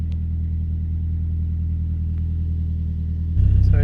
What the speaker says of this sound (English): Let's go out and have a drive and test this out.